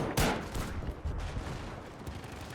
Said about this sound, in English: I can still hear him shooting in the building.